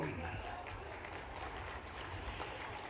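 An audience at a political rally held for the tribal community claps steadily throughout, a dense, continuous patter of many hands with voices mixed in.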